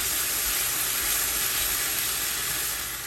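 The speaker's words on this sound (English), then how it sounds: "I'm gonna go in with our milk. Hear that sizzle." Loud, steady sizzling hiss of milk frying in a hot pan, bright and continuous with no talking.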